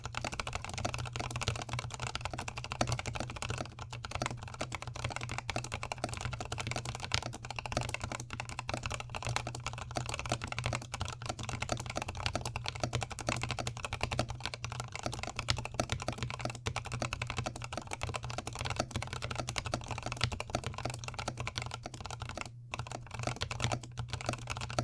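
Continuous typing on an Epomaker NT68 keyboard with lubed switches and lubed stabilizers, the spacebar rattling slightly: a dense, steady clatter of keystrokes at a brisk even pace, close-up with a low hum underneath.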